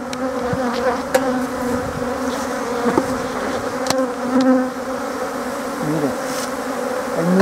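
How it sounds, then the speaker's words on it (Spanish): A dense, continuous buzz from many honeybees in an opened hive as a new super is fitted, loud and close, with individual bees droning past the ear. "Muchísimas abejas."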